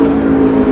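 A 1,300 horsepower twin turbo Corvette time attack race car engine holds a loud, steady high-revving drone with a strong sustained tone, close by and with no talk over it.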